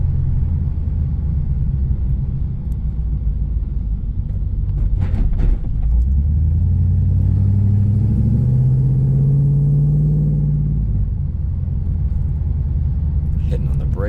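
A 2001 Pontiac Trans Am WS6 engine hums low and steady while driving, its pitch rising and easing as it accelerates, with road rumble underneath.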